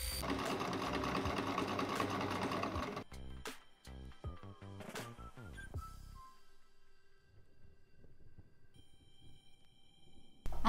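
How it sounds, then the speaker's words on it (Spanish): A sewing machine runs fast while stitching the seam of a classic summer dress bodice, then slows into short stop-start bursts and falls quiet. The whirring is close, and no one speaks. "lo que vamos a hacer es coser por el lado donde se ve la costura"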